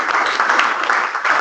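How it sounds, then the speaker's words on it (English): A brief, steady burst of audience applause for a presenter at a class project meeting, a dense wash of many hands clapping at once. "let's go ahead and give Pablo another round of applause"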